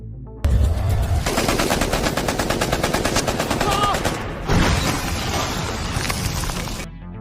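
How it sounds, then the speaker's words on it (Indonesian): Rapid automatic gunfire from an action film: loud bursts of fast, sharp shots that rattle on for several seconds, with a short pause in the middle and some echoing crashes and impacts mixed in. "Dong malah disambut tembakan bertubi dari Doni."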